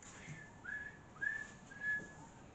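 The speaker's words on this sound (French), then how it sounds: "j'ai cru entendre des sifflements" Faint, thin whistling tones drift through a quiet manor during a paranormal investigation: three or four short, steady whistles rising out of a hushed background, with no voices.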